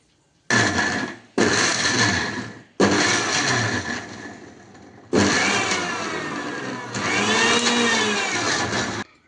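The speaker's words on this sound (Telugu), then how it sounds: "దీన్ని ఇప్పుడు మిక్సీ చేసుకుందాం" A mixer grinder whirs loudly in several short bursts, stopping and starting, as spices and garlic cloves are ground; the motor pitch rises in the later runs.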